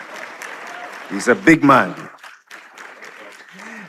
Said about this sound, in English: Darren likes to hear the applause when he's walking